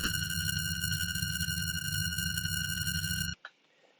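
A sustained bright synth tone with rich harmonics plays steadily, then cuts off abruptly, leaving a faint tail.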